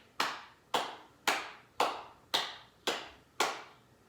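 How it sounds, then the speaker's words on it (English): Seven sharp hand claps land at an even, steady pulse during a fourth-grade West African polyrhythm class exercise, each one close and crisp with no talking in between. "Now we're going to add in some claps."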